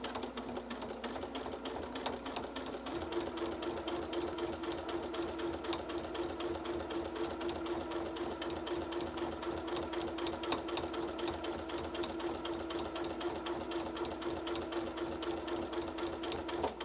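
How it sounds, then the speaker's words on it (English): A sewing machine fitted with a walking foot stitches fabric pieces for a cat mat, a continuous, fast, even mechanical whirr and needle patter running steadily throughout. "I've loaded it with my walking foot so that it moves smoother, and we're going to go ahead and start sewing"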